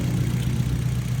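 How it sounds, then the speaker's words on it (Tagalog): Used car engine idling quietly in a garage, radiator stable with no bubbling: a smooth, steady low-pitched hum with even pulsing and no revving, close and continuous. "Tahimik na makina na ito mga bossing ko."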